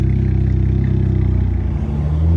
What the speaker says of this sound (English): Listen to my car. I'm barely tapping the gas.